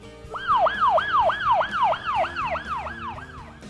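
A police car siren yelps in a fast repeating pattern, about ten rapid swooping cycles, loud and clear with no talk.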